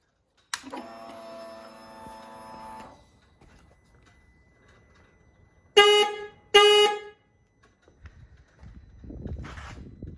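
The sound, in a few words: Indian Scout Bobber motorcycle horn being tested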